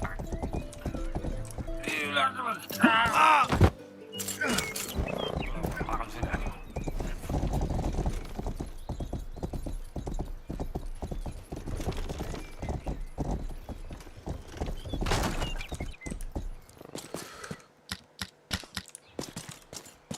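Horse hooves clip-clop steadily in a video game, a brisk rhythmic patter of hoofbeats running through most of the stretch with an occasional whinny, layered over game music and effects while a person talks.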